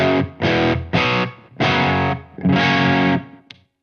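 Ibanez S320 electric guitar with DiMarzio D-Activator pickups played through a Synergy BMAN amp and Torpedo Live, giving a lightly broken-up distorted tone: five sustained chords struck in sequence with short gaps, then a brief final stab.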